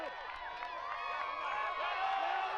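Crowd at a Hard MTB League pro invitational mountain bike event cheering and shouting for a rider, a busy mix of excited voices rising slightly in intensity over a few seconds, moderately distant.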